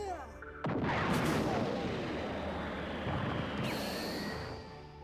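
A Dragon Bomb goes off in the video game Wander Stars as a sudden heavy boom that rolls into a long rumbling decay, followed by a rising whoosh near the end.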